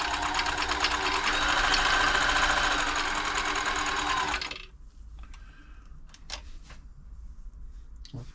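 A Riccar 8400 sewing machine, freshly serviced, runs a short full-width stitch with a loud, close, steady buzzing whir that stops abruptly midway, leaving faint clicks and handling noises.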